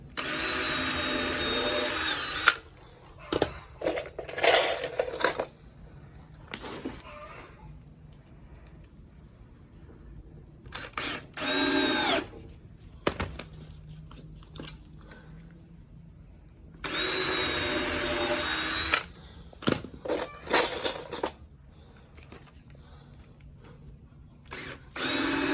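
A power drill drives screws into the wooden frame of a small 9.5-foot punt-style boat, in several loud short bursts separated by quieter pauses.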